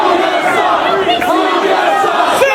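A pro wrestling crowd in an arena in Dayton roars and cheers loudly and steadily throughout, a dense wall of voices with rising shouts.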